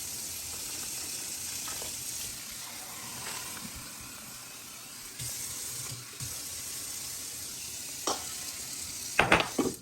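Wet focaccia bread dough being stirred and mixed with added water, a steady close squelching and scraping texture with a few sharper knocks and clatters near the end.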